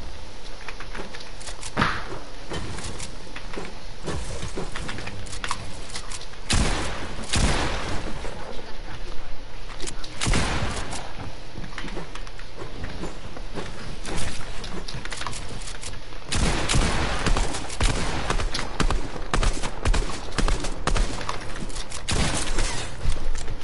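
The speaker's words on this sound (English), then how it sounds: "Now he's just gonna shoot us" Video game gunfire in repeated loud bursts across a long stretch of steady game noise, with players talking throughout.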